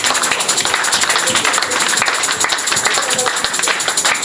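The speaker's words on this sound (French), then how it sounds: "Si quelqu'un a compris cela, il applaudit." Church congregation applauding together during a bilingual French-German sermon, a dense steady wash of many hands clapping at even loudness for the whole stretch, with no voices over it.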